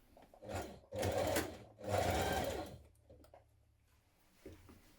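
A sewing machine stitches the shoulder seams of a dress in two sustained bursts, each about a second long. A softer, intermittent motor hum and a few light clicks follow.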